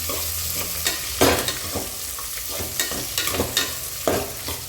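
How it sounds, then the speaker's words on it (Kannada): Ginger and garlic frying in a pan: a steady close sizzle broken by repeated scraping stirs and utensil knocks against the pan, with no talking. "ಶುಂಠಿ ಬೆಳ್ಳುಳ್ಳಿ ಹಾಕಿರೋದು ತಳ ಹತ್ಕೊಂಡ್ಬಿಡುತ್ತೆ ಅದಕ್ಕೋಸ್ಕರ ಇದು ಇವಾಗ ಚೆನ್ನಾಗಿ ಫ್ರೈ ಮಾಡ್ಕೊಬೇಕು"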